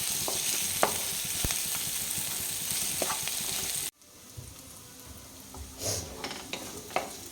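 Curry leaves and spices sauté in a hot pan for an Indian roast dish of broad beans, giving a steady close sizzle with scattered clicks of stirring. The sizzle drops off abruptly midway, then returns softer with a few louder crackles.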